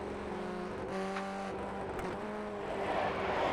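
FF1600 race cars in iRacing at Oschersleben, a steady droning engine whine with several cars running close together, harmonic tones shifting as they rev, continuous and fairly loud with no talk.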